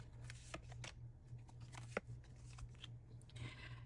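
Tarot cards being shuffled by hand, a quick rustling, flicking run of card riffles close up, with a low steady hum underneath and no talking.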